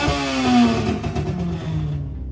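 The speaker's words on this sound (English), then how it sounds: "I love the sound of a Hillman screamer, but yeah, let's wind it up and see." A Hillman Imp-based screamer engine with an open pipe revs hard on a dyno, rising through a sharp climb then holding a raw, rasping note before cutting off.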